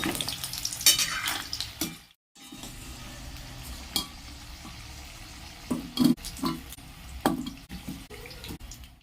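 Small winter potatoes frying in oil in a pan, a steady close sizzle broken by scraping stirs and a few sharp clatters, with one short silent gap near the start.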